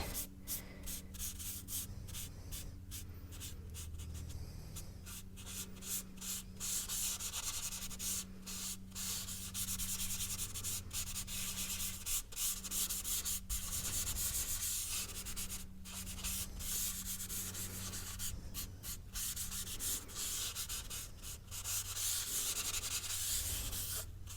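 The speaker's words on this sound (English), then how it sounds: "I just want to spend a second just smoothing out my edges, getting a nice flat finish to the charcoal that I've already added" Charcoal pastel smoothed and rubbed across paper while drawing an eye, a soft, close dry scratching in repeated strokes with brief pauses between passes.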